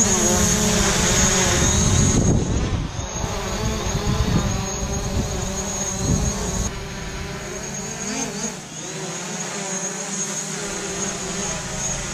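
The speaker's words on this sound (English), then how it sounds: "as soon as I do the emergency shutoff, the drone's gonna stop, try to spin and go down." A DJI Mavic Pro drone hovers close by with a loud, high propeller whine that shifts in pitch as it flies, sustained for several seconds.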